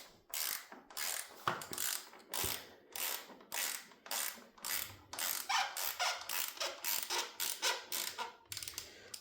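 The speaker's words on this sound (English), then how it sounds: "I'm gonna tighten it a little bit with my wrench" Rapid ratcheting clicks from a wrench tightening bolts on a Honda CB650R engine guard, repeated in short regular bursts of strokes at close range with no talking.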